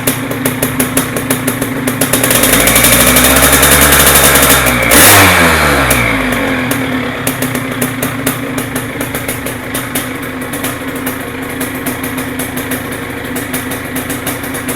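An old Yamaha DT 100 enduro trail motorcycle engine is blipped into a few loud revs, then settles back to a steady, slightly uneven idle that carries on alone.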